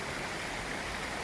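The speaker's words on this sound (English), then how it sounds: "it's a really short waterfall, and it was all blocked right here in the middle" A short forest waterfall pours steadily, a dense, close, continuous rush of splashing water with no other sounds.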